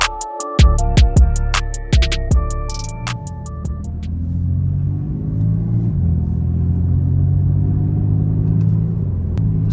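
A 500-horsepower BMW M4 driven on back roads with the engine in sport mode, a deep steady engine rumble heard from inside the cabin after a few sharp clicks and chimes at the start.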